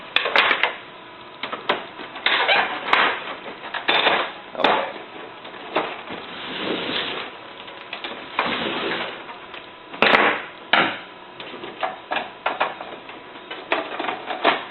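Screws are taken out from underneath a printer's sides, making irregular sharp clicks, taps and plastic clatter close by, with short quiet gaps and no talk.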